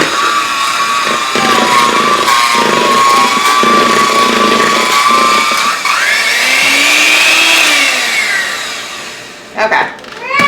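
An electric mixer whirs steadily, loud and close, as cake batter ingredients for old-fashioned tea cakes are creamed together, its pitch shifting slightly midway before the motor cuts out briefly near the end.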